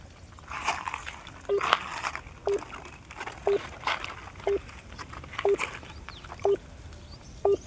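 Short electronic phone tones beep at a steady pace, about one per second, over faint background noise and shuffling.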